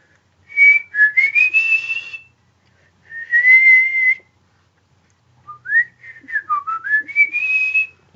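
A person whistles three melodic phrases with gliding pitch, clear and close, separated by short pauses with no other sound.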